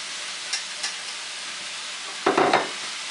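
Beef fajitas with vegetables sizzle in a pan: a steady hiss with a few soft clicks early on, then louder stirring scrapes near the end.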